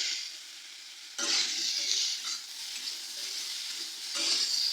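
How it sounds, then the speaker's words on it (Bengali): Potato and pumpkin chunks fry in a pan while being stirred, giving a close, steady hiss that swells into louder sizzling bursts with each stir, with no voices. "আলু আর কুমড়োটা দেখুন ভাজা ভাজা ফ্রাই হয়েই গেছে"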